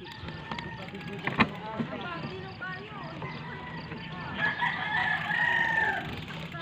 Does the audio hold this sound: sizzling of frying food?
no